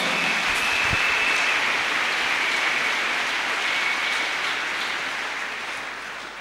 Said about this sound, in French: Nous acclamons le roi des rois.